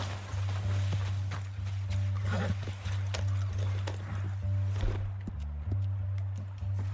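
A horse in Red Dead Redemption 2 trotting with a clear clip-clop of hooves and a short whinny, set over a steady low hum of game ambience, close and moderately loud.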